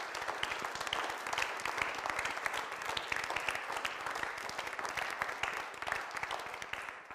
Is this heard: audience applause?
yes